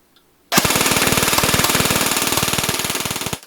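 A Cyma M4 airsoft AEG with a built-in tracer unit fires a sustained full-auto burst of BBs, a loud, close, rapid rattle of evenly spaced shots lasting about three seconds before cutting off.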